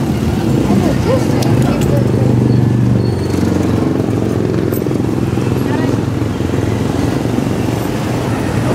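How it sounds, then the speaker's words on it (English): Motorized tricycle ride in Bogo City, northern Cebu, Philippines, with a steady close engine drone running throughout and people talking over it. "that's the tour on the tricycle ride"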